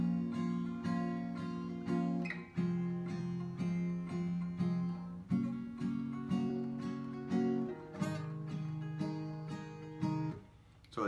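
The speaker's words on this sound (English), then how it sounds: "So the strumming pattern sounds like this." An acoustic guitar strums a rhythmic down-and-up pattern for a song, chords changing every couple of seconds, played up close and alone for about eleven seconds at a moderate level.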